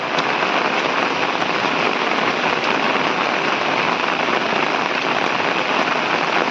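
Heavy monsoon rain pours down outdoors beside a road in Konkan, a dense, loud, unbroken hiss of drops striking surfaces all around.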